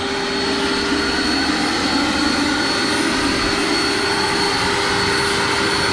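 An RC MD 600N helicopter with an electric ducted fan hovers in ground effect near 24,000 RPM, giving a loud, steady, high-pitched whine and rushing roar. It holds constant and close throughout with no voices.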